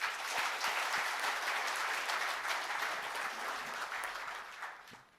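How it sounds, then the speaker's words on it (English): Audience applause at an indoor industry workshop, a dense, steady burst of clapping from a crowd that stays loud for several seconds and then gradually fades out. "just big round of applause for the IDMA anthem"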